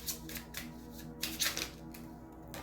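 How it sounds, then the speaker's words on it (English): Tarot cards shuffled by hand in a quiet indoor reading, giving soft papery riffles and slides in short bursts, close and fairly quiet over a low steady hum. "I am going to shuffle, and then I'm going to cut the cards."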